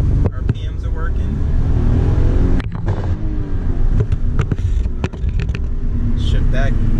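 Nissan 300ZX pulling away hard from a dead stop, engine revving up loudly close by, with bumps and clatter from the cabin and people talking over it.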